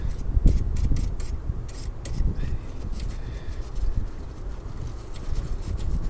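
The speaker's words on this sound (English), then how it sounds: "I don't know if there's a tool for this, for scraping down inside of there." Scraping corrosion from inside the battery terminals of a Ford Excursion makes a series of short, close gritty rubs and scratches in irregular bursts against faint background noise.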